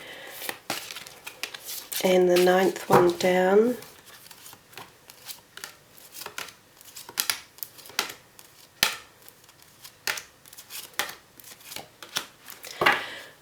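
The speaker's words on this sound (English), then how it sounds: "Quick shuffle for you." A deck of goddess oracle cards is shuffled and flicked by hand, making a run of crisp, close card snaps and riffles spread across the stretch, with one brief spoken phrase near the start.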